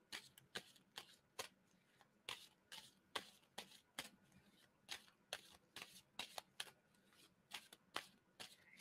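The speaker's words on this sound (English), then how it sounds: "And tell me when to stop shuffling." Tarot cards being shuffled by hand in a steady run of crisp riffling bursts, nearly twenty quick flutters over about nine seconds, close and fairly quiet with no talk.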